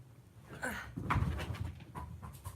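A dog pants close by in quick, breathy puffs, soft but steady, with a faint whimpery edge.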